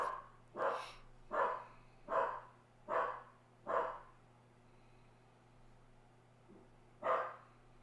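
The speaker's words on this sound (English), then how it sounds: "Max barking in there. He's in the kitchen." Max the dog barks from the kitchen in an evenly spaced series of five sharp barks, then a pause and one more, clear and nearby over a faint steady hum.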